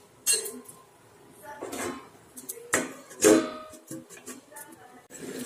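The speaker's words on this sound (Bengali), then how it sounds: "আর দিয়ে দিচ্ছি পাঁচ মিনিটের জন্য ঢাকা মিডিয়াম আঁচে।" A metal lid clatters down onto a cooking pot of bottle gourd and mung dal set over a medium flame, giving a few separate clinks and knocks close by, with soft kitchen clatter between them.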